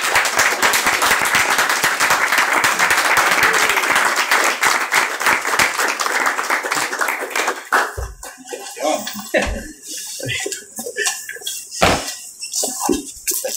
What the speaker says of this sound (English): Everybody, please stand up and give him a round of applause.